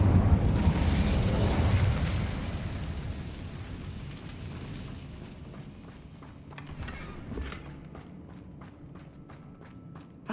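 A fire spell cast in Hogwarts Legacy erupts in a loud, roaring burst of flame that fades over a few seconds, followed by scattered softer pops and crackles.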